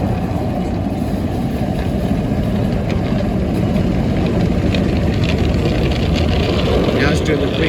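An automatic car wash at a Shell gas station in Gilbert, Arizona runs its cleaning cycle on a car, giving a loud, steady rush of spraying water and machinery that fills the whole stretch without a break.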